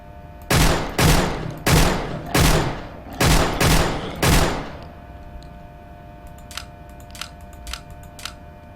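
Rifle gunfire in the video game Project Crypt: six or seven sharp, loud shots in uneven pairs and singles over four seconds, followed by quieter clicks and faint ticking game sounds.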